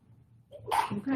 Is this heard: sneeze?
yes